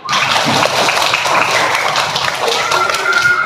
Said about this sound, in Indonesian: Tepuk tangan dong untuk semangatnya hari ini